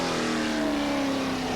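Formula 5000 race car driven by race leader Warwick Brown at Oran Park, 1979 Rothmans International series, roaring past with a loud, steady engine drone and a slight falling pitch as it goes by.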